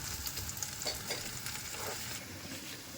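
Mushroom curry is stirred in a frying pan over a soft, continuous sizzle. Scraping strokes come through faintly and close, and no one speaks.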